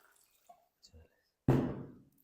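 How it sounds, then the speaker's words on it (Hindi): Water is poured into a bowl of raw chicken wings for soaking, a short splashing rush that swells quickly and trails off within about half a second, following a few faint knocks. "और अब हमने इसके अंदर पानी डालेंगे।"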